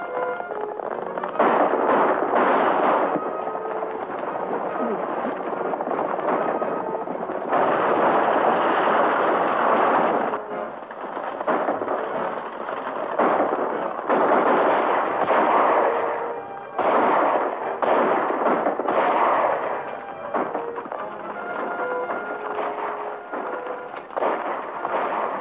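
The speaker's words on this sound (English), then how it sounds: "Whoever's doing that shooting is helping us." Gunfire in a 1941 western film: a long stretch of rapid shots and cracking reports comes in dense clusters with brief gaps, fairly loud, with no talk over it.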